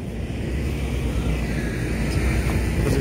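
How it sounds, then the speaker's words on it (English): A tractor drives past outdoors in a rural spot near Bannockburn, Stirlingshire, heard as a steady low engine rumble that holds at a fairly even level throughout, with no voices. "There's a tractor going, it's going that way."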